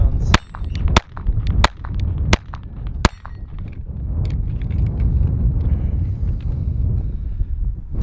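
Gunfire from Taurus TX22 and Glock 44 .22 LR handguns: five or six sharp, close reports spaced under a second apart, then a dense rumbling stretch of wind and outdoor noise without clear shots.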